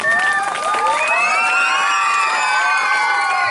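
An audience at a school annual function in Darbhanga, Bihar cheers and shouts steadily throughout, a dense, loud crowd roar with high children's voices and whoops rising above it.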